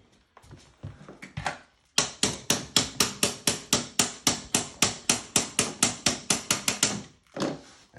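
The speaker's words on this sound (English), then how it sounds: "It's a little snug, so I'm going to have to get something just to tap that in." A hammer tapping a snug copper pipe fitting into place, with a steady series of about twenty loud, sharp metallic blows in quick succession after a few scraping handling noises.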